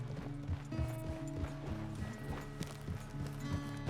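Horse hooves in Red Dead Redemption 2: a steady, rhythmic clip-clop of a trotting horse, close and moderately loud, with a faint harness jingle over a low hum.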